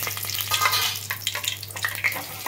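Steady crackling sizzle of whole garam masala spices and bay leaf hitting hot oil, dense and close with small popping bursts throughout, no voices.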